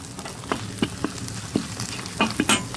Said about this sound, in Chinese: 锅里留点油，下入葱姜蒜末，葱香以后来一勺香辣酱